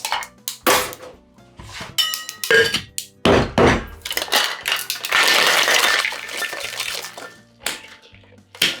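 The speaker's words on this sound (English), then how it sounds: "And now we're just going to go ahead and add ice, shake it, and strain it." Ice rattles and clatters hard inside a cocktail shaker for a strawberry daiquiri, in loud irregular bursts that merge into one sustained vigorous shake before trailing off into a few knocks.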